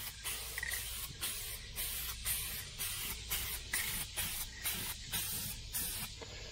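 Spray painting a 1994 GMC pickup truck: a steady series of short hissing bursts from a spray gun in an even rhythm, each pass separated by a brief pause, fairly quiet and close.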